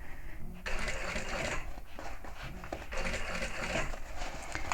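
A sewing machine stitches the seam of a handbag with a 3/8-inch seam allowance, rapid close mechanical whirring in short bursts separated by brief pauses as the fabric is guided around a curve.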